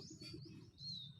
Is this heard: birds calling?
yes